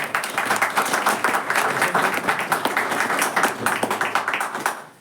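Lively audience applause at a poetry gathering, close and loud, with dense clapping and rhythmic surges that fade out at the end.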